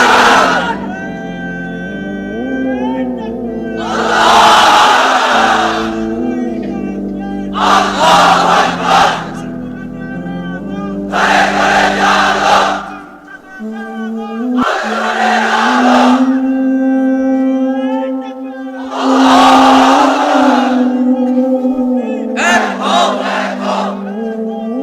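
A large crowd of unmarried men at a religious sermon roars the takbir chant in repeated loud bursts, each answering a speaker's call, with his amplified voice leading between the shouts.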